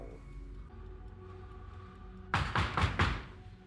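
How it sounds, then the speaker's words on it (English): Several loud, heavy knocks on a door in a TV drama, four quick thuds in a burst following a quiet stretch of low background sound. "They knock so loud!"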